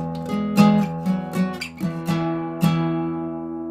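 Guitar plays a riff, a sequence of plucked and slid notes with clear attacks, moderately loud and close, ringing out alone.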